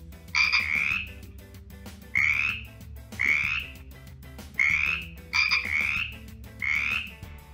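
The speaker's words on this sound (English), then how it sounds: "Now Felix the Frog is jumping again." Cartoon frog croaks in six loud, close, throaty bursts spaced about a second apart, with a soft musical backing underneath and no talking.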